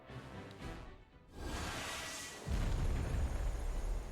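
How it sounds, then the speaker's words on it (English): A ship blows up in a harbor in the Triangle Strategy video game, starting with a rushing whoosh and building into a loud, sustained deep rumbling blast that grows heavier toward the end. "Ooh, that was a big explosion."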